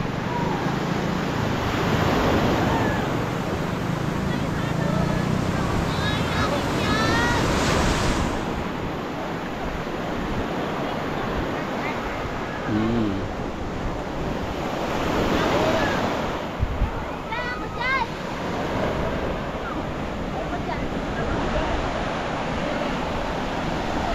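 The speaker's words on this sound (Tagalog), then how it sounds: "ito po ang dagat ng Lubayat, Quezon" Ocean waves wash and break continuously against a rocky shore at Lubayat, Quezon, with wind buffeting the microphone and occasional faint voices.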